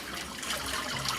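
Water trickling and draining through a mosquito net frame holding banana fiber pulp, a soft steady patter of drips and dribbles, close but faint, with no voices.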